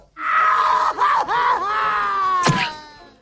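A single voice gives a loud, sustained scream with wavering pitch, breaking briefly partway through, then fading out.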